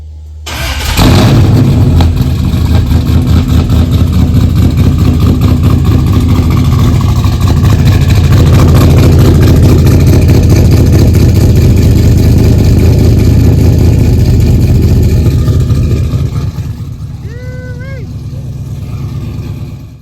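A Ford OBS truck with a new exhaust fires up and runs, a loud, deep, rumbling engine holding steady close by for about fifteen seconds before cutting off, followed by a brief faint tone.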